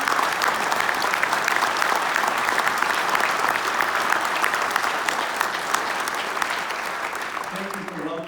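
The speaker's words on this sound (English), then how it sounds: "I think it'd be wonderful if we get a round of applause for Bill Cassas" Loud, dense applause from an audience honoring a veteran at a ceremony, continuous close clapping that tapers slightly at the end as a voice begins.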